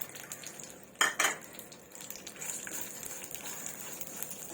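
Dry fruit pieces tip into a pan of poppy seeds roasting in ghee, giving a brief double clatter of pieces striking metal, then soft scraping and stirring at close range with a faint steady sizzle underneath.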